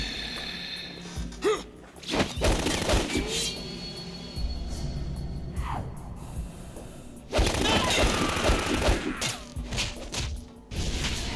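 Gunfire in Metal Gear Solid 2 rings out as a chaotic mix of sharp cracks and heavy impacts over dense, continuous game noise, with louder bursts near the start and again later.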